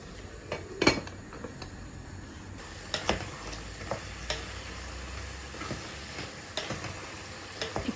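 Eggplant and pasta sauté in a pot in their own juices, a steady low sizzle running throughout with scattered utensil scrapes and clinks against the pot, some sharper and louder than others.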